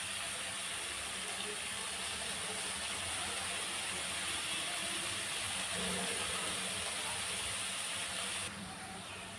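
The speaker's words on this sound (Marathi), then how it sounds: "कोथिंबीर पण आपल्याला छान अशी भाजून घ्यायची आहे।" Chopped coriander roasts in a pan with a spiced chili paste, giving a steady, even sizzle at moderate volume that carries on unbroken and drops slightly at the end.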